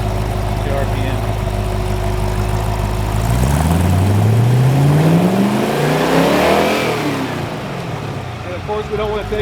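Chrysler 318 stroker engine revving up and back down, a loud close roar whose pitch sweeps higher and then falls away before settling toward idle.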